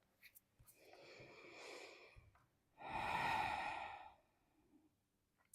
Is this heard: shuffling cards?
no